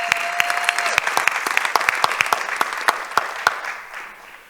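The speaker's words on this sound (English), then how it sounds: "Let's give him a round of applause." A crowd applauds a presenter, Dr. Tim Baird, at a foundation pitch event. The sparse, distinct claps are steady for several seconds and then thin out and fade.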